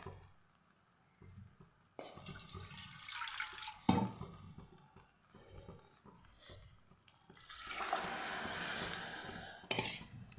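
Water is poured into a pot for masala rice cooking on a low gas flame, heard as two close splashing pours with clinks of the pot between them.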